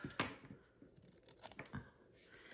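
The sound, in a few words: trimming cardstock with scissors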